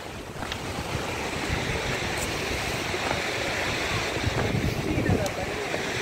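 Steady roar of water rushing forcefully at Poondi, with broadband wash and wind buffeting the microphone, continuous and loud throughout.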